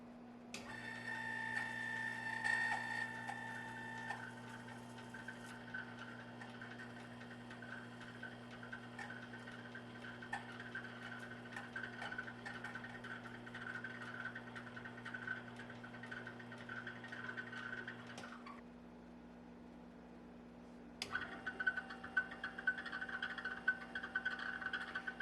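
A WEN wet/dry sharpening system runs with a steady motor hum and fine ticking whir. It dips briefly partway through, then resumes at a similar level.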